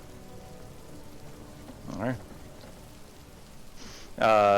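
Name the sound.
light rain sound effect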